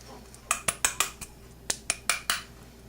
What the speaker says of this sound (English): I am going to add my cocoa butter to this.